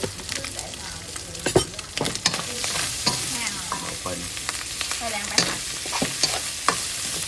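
Ingredients are stir-fried with brown sugar and seasoning in a hot pan. Close, continuous sizzling is broken by frequent irregular scrapes and clacks of a spatula against the pan.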